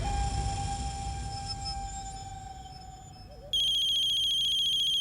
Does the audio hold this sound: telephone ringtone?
yes